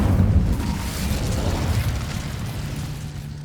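A fire spell in Hogwarts Legacy erupts in a loud, deep booming blast that rumbles and fades over a few seconds.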